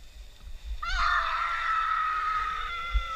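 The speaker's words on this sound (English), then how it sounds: "That's like a bloody murder scream." A woman lets out one long, high, sustained scream that starts abruptly and holds steady for over two seconds.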